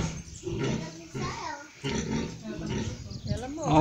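Pigs grunting at a farm visit, a sow and her piglets close by, with short snorting grunts scattered through the clip under frequent talk from adults and a child.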